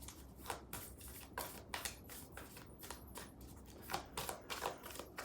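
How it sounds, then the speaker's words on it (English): A new deck of tarot cards being shuffled by hand, a steady run of crisp riffling bursts, close and fairly quiet, with no talking. "So when I try to shuffle like this"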